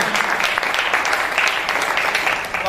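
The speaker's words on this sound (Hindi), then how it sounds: "जोरदार ताली।" Loud, steady applause from a seated audience at a health-product seminar, dense clapping filling the whole stretch without a break.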